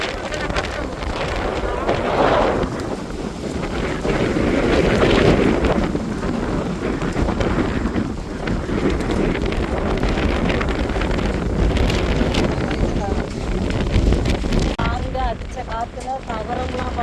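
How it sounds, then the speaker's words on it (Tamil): A sudden cyclone wind roars steadily across a village, battering tin sheets and a sagging goat-shed canopy, buffeting the microphone throughout with rattling and gusty noise and occasional voices under it. "சரியான காற்று."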